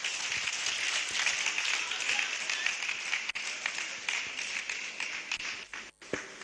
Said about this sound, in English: I didn't hear you clap for him.